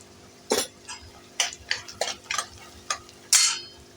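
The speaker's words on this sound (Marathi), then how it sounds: "आणि पोहे टाकून कलचूया." Poha is stirred in a pan with a spoon, a series of distinct scraping clinks against the metal, about nine strokes over a few seconds, close and fairly loud.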